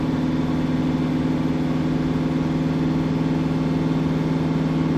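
A Fiat Ducato diesel engine, recently rebuilt after 500,000 km, runs steadily in a workshop over an inspection pit to warm up for a DPF burn, a loud, even idle with a strong low hum and no voices.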